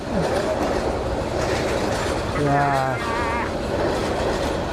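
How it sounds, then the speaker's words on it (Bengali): A train passing along railway tracks near the Tanguar Haor area in Bangladesh, a steady loud rumble with a horn-like tonal blast midway, under ongoing background noise and some voices. "অবশেষে ট্রেনের দেখা পাইলাম"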